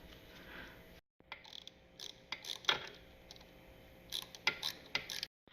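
Threaded metal parts of a metal polish can being tightened by hand, a series of short metallic clicks, ratcheting ticks and scrapes in irregular bursts, close and fairly quiet, with brief pauses between.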